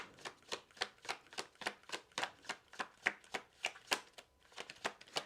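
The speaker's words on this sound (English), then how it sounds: "they're so like with this sheen, and they're almost like so slippery to shuffle" Glossy, slippery laminated cards being shuffled by hand, a quick regular series of crisp riffling slaps, close and soft, about three per second with no talking.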